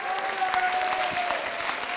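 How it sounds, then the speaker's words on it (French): Audience applause for a performer named Patrick at a live theatre show, dense steady clapping close by with a faint sustained tone running beneath. "On applaudit Patrick très fort."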